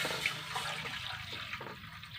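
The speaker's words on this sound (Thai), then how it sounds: "วากะทิใส่ลงไปเลย" Coconut milk pours into a pot for a northern Thai black sticky rice and longan dessert, giving a steady continuous liquid rush with low gurgling for about two seconds, no talk.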